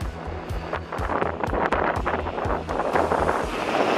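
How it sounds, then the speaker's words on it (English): Strong, cold wind buffets the microphone in a steady roar with gusty low rumbling throughout, loud and close, with no voices; near Tierra del Fuego. "when we got there it was so cold and windy"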